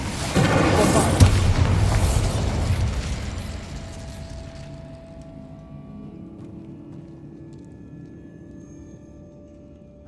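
A Bombarda spell explosion in Hogwarts Legacy lands as one loud, close blast that rumbles for a few seconds and then decays into a long, fading tail of debris and ambience.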